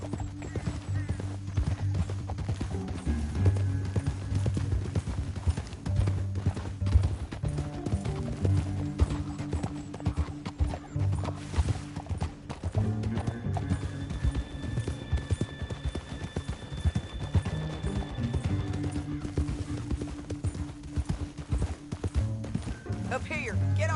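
Horse hooves clop in a steady galloping rhythm over sustained background music in Red Dead Redemption 2, continuing without a break.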